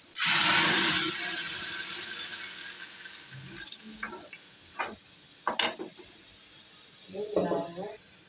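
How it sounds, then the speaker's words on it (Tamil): A loud sizzling hiss bursts up as ground tomato paste is poured into a hot pan for tomato chutney, then fades into quieter bubbling while a person speaks intermittently. "நம்ம அரைச்ச வச்ச இந்த தக்காளி பேஸ்ட்டை இதில் கொட்டிடலாம்"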